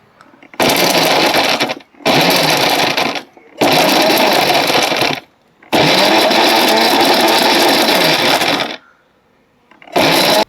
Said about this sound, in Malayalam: ഈ ഡേറ്റ്സ് നന്നായിട്ടൊന്ന് അരച്ചെടുക്കണം.